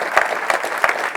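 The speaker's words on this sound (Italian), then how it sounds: "rifacciamo un applauso a Francesca" An audience at a talk claps for a speaker, a short burst of close, fairly loud clapping with a few distinct individual claps standing out, no voices heard.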